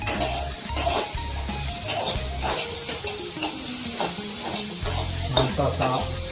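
Finely chopped carrots sautéed in a pan with steady sizzling, punctuated by repeated stirring scrapes and knocks of a utensil against the pan, close up and with no talking.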